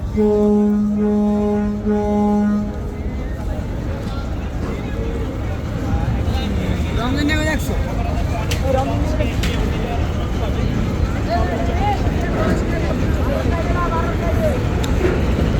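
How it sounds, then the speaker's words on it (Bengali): Crowded passenger launch leaving the river ghat in Barishal on an Eid return trip: a loud, sustained horn blast for a couple of seconds, then a continuous engine rumble and dense crowd noise, with voices throughout. "আজকের সপ্তম লঞ্চ ডেঞ্জার নয় কিন্তু ঘাট ত্যাগ করে চলে যাচ্ছে"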